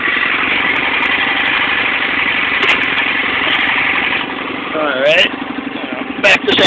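A four-wheeler ATV engine runs loud and close with a steady idling rumble, shifting slightly in pitch toward the end as it revs.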